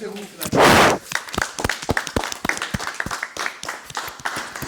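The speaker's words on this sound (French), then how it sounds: "Applaudissez-vous." A short loud voice burst at a school-themed talk show gives way to scattered, uneven individual claps from a small audience, sharp and fairly close, lasting a few seconds.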